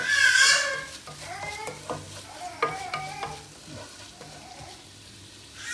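A salted biryani mixture being stirred in a pan, with repeated scraping and clacking strokes of a spoon over a soft sizzle, close and moderately loud, the strokes coming in an uneven rhythm.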